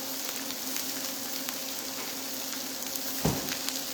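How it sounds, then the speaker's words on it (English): Doner kebab meat sizzles and crackles steadily in a hot pan, a constant close frying hiss with one brief bump near the end. "while they're frying, it only takes a few seconds"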